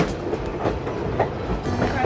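A train rumbles steadily along the tracks of the Grand Canyon Railway with a low, continuous roar and faint rhythmic clatter, heard from on board.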